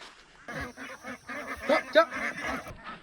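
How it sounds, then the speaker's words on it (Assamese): Farm-raised ducks give a rapid run of nasal honking quacks, close and moderately loud, bunched together with short gaps between calls. "ইয়াতে চৰি থাকে আমাৰ হাঁহখিনি"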